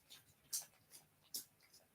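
Dogs crunch Cool Ranch Doritos close by, with sharp bright crunches at a steady chewing pace and softer snuffling bites between them.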